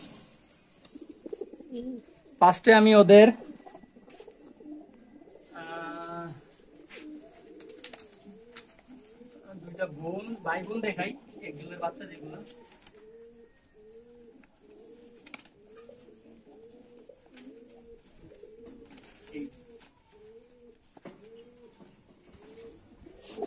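Pigeons kept for flying competitions coo softly over and over in a low, repeating throaty rhythm, with a brief burst of wing flutter near the start. Someone talks over the birds for much of the time.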